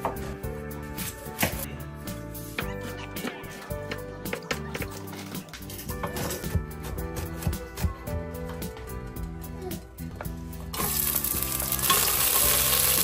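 Food fries and sizzles in a pan during home cooking, a continuous crackling hiss with scraping stirring sounds, growing somewhat louder toward the end.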